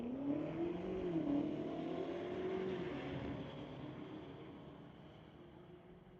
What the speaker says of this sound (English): Debo Zhao running up there in the 2022 BMW.